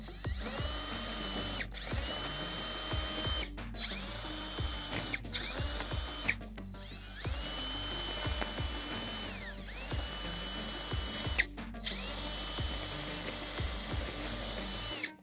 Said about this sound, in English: we're going to go ahead and drill out a couple of new holes with a 3/16 drill bit